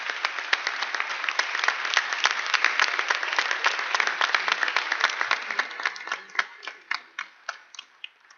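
Audience at a school drama production of Cinderella applauding the production helpers, a dense burst of clapping that holds for several seconds and then thins to scattered last claps.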